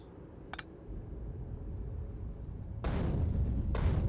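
Grenade explosions in Factorio. A faint low rumble is broken by two loud, broad blasts close together near the end, with a small click earlier.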